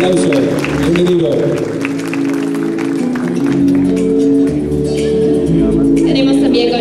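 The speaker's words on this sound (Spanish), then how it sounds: "Un aplauso, bienvenido." Crowd applause welcoming a judge at the Miss Teen Ancash 2016 pageant in Peru, scattered claps and cheers mixed with loud sustained event music throughout.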